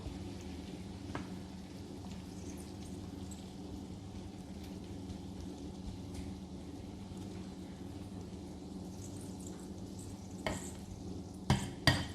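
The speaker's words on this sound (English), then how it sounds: "And just fry both sides for about 5 minutes or until it's golden brown." Cabbage pancake frying in a pan, a steady soft sizzle and crackle throughout, quiet and close, with a few light taps of a utensil near the end.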